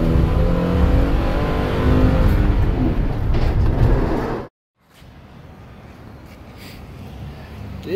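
Ford Transit 350 cargo van engine accelerating while merging, a steady loud rumble with low harmonics building for about four seconds before cutting out abruptly, followed by quieter road and cabin noise.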